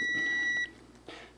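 Steady electronic beep from a multimeter switched to resistance mode while testing a Jeep Wagoneer/Cherokee fuel gauge circuit, a continuous tone for about half a second that then cuts off, leaving quiet background.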